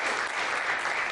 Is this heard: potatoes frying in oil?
no